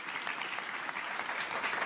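Dense, steady applause from an audience at a CES 2026 technology keynote, a continuous wash of clapping with no individual claps standing out, heard at some distance and without any voices.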